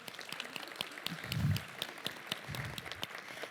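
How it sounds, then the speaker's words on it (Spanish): Audience at a cultural program inauguration applauding a dance teacher, a soft, fairly distant spread of clapping with scattered sharper claps and a brief low murmur partway through. "Un aplauso"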